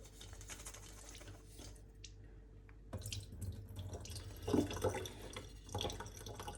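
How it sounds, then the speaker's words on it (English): Water draining and dripping from a bowl of salted, sliced eggplant being shaken out in a home kitchen, a soft running trickle with a few louder splashy bursts near the end, close and with no talk. "Obviously drain it out, give it a good drain, shake it out, and get rid of some excess salt."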